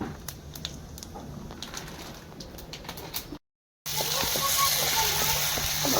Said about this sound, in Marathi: वडा बनवायला फोडणी देते. वडा बनवायला फोडणी द्यायला लावले. राई जिरा.